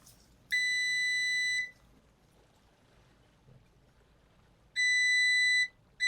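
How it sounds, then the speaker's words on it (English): A multimeter gives two steady continuity beeps while probing a Dell Latitude E5570 laptop motherboard for a short, each tone lasting about a second, separated by a few seconds of quiet room hiss. "I will bring my multimeter to check if there is any short circuit or not."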